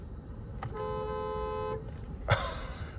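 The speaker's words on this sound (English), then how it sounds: "That is some horn sound." A 2020 Bentley Mulsanne Speed sounds its horn in one steady blast of about a second, with a faint click before it and a thump afterward inside the quiet cabin.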